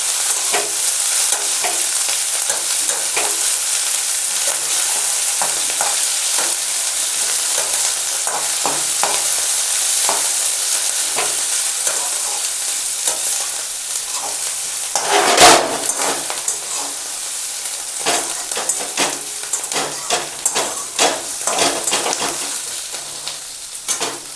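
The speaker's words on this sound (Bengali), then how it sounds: "আমি বাঁধাকপি আর ক্যাপসিকামগুলো দিয়ে দেব। এবার ভালো করে ভেজে নিতে হবে।" Potato, carrot, cabbage and capsicum sizzle loudly in hot oil while being stir-fried for homemade chowmein, a continuous hiss broken by frequent scraping and tossing strokes of the spatula, with no voices.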